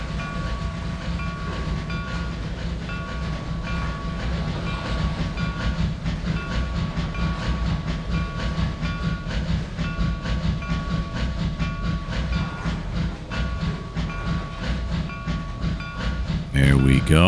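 A C&O coal train in the Trainz 2022 simulator rolls beneath a coal tipple on the Hinton route, giving a steady, continuous rumble with faint hiss and wheel clatter, close and fairly loud throughout.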